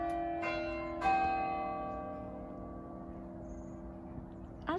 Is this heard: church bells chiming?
yes